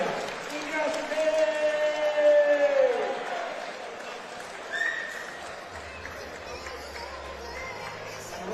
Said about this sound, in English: A round of applause, ladies and gentlemen, for Josef and Stráník.